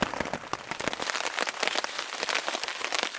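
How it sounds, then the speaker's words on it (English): Steady, moderate rain falls on a morning camp during a canoe trip in Algonquin Park, a dense, continuous patter of drops hitting nearby surfaces with no voices. "It has been raining all night long. Not a hard rain, but just a steady rain."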